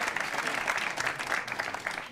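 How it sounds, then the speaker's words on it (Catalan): Brief burst of steady studio audience clapping on a Catalan television word game, short and even in level. "un aplaudiment pel Roger"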